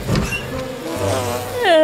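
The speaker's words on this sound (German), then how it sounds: "Die Bienen sind sehr aufgeregt." Cartoon honeybees buzzing excitedly around a hive, a loud continuous droning hum with rising whine-like swells near the end, heard alone without speech.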